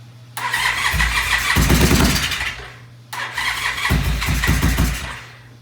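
Gold Wing motorcycle engine cranking and catching twice in a row, each attempt a loud rising roar that sputters and fades, with a low steady hum between tries and no talk.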